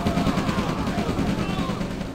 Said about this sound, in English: now my tank is soaking up a lot of gunfire